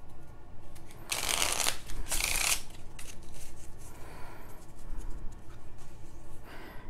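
A Sleeman beer playing card deck with a thin, smooth plastic-coated stock is shuffled twice in quick riffling bursts, close and crisp, followed by quieter handling and a soft final riffle.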